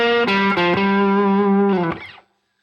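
A distorted electric guitar plays a short slow-blues lick on the minor pentatonic scale, a few picked notes and sustained bends ringing loud and close with effects, then cut off into a brief silence.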